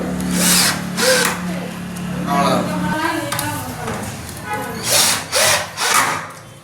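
A power drill driving screws whirs in several short bursts, with someone talking in between and under the tool noise.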